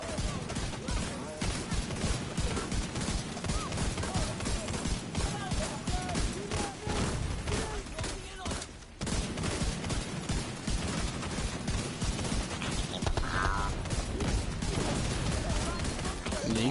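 Continuous rapid gunfire from The Division 2, sustained and loud with dense overlapping shots and a brief pause midway, in a tank support build firefight.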